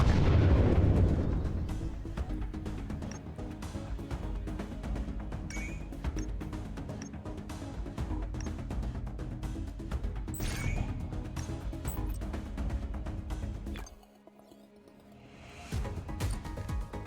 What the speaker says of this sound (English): Here comes our backup missile.